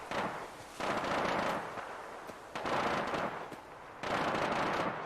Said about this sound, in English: I think they're shooting ghouls now.